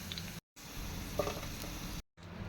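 Garlic cloves deep frying in hot oil, a steady close sizzle and crackle with light stirring, broken by two brief silent gaps.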